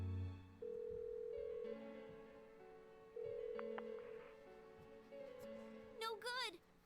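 A phone call rings unanswered in the video game Persona 4, a series of steady electronic ringback tones at intervals, moderately faint, ending in a brief rising chime.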